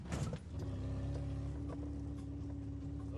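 A Fiat's engine in a driving video game drones steadily with a rough, buzzy tone after losing its exhaust pipe, holding one sustained pitch without a break.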